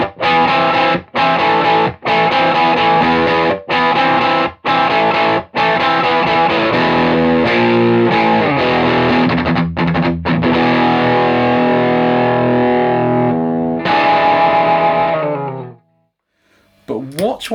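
An electric guitar runs through an Expandora fuzz pedal, giving a loud, gnarly, heavily distorted tone. Chords and riffs are played close up with choppy stops, then a sustained ringing passage that cuts out near the end.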